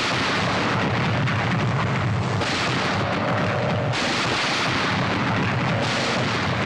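Artillery guns firing in a war film, a continuous heavy roar of booming blasts and rumbling explosions, loud and dense throughout, with intensity shifts as salvos overlap.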